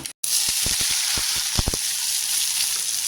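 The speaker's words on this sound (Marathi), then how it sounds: "छान असं स्लो गॅसवर छान असं आहे ना फ्राय करून घ्यायचा कांदा" Steady hissing sizzle of onions frying in oil in a pan over low heat, with a few soft taps of a utensil early on.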